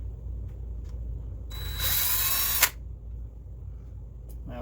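A power drill whirs loudly for about a second, spinning out a screw from an axle differential cover, then stops abruptly, with a quiet workshop background before and after.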